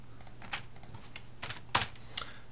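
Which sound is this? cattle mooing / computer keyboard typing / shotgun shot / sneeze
computer keyboard typing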